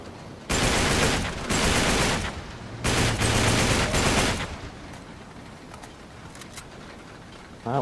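Two long bursts of rapid automatic gunfire in the video game Uncharted 3 fill the scene, loud and dense, each lasting about a second and a half, followed by quieter scattered shots and ambient game noise.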